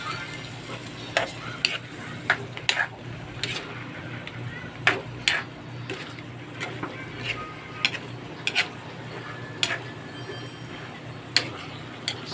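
Ground pork is stirred in a pan as it fries, with a soft steady sizzle and intermittent sharp scrapes and clinks of the utensil against the pan, close by and with no talking.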